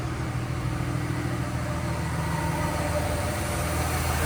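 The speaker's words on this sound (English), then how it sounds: "Now let's hear the exhaust brake." A Dodge Ram 3500 with a 5.9L HO Cummins diesel, exhaust brake engaged, runs steadily with a deep, continuous rumble and a raspy exhaust note, sustained without a break and fairly close.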